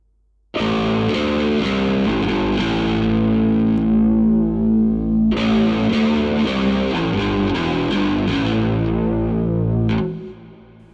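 Bass guitar played through an Amplitube chorus effect with distortion, a loud, thick run of sustained notes and chords that pauses briefly midway, then resumes before fading out near the end.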